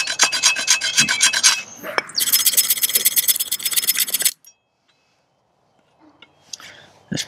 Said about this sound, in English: just go ahead and do a scrape a little fat wood on there